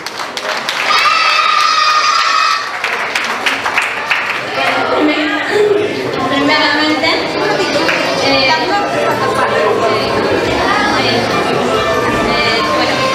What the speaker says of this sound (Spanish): Vamos a darle muy fuertes aplausos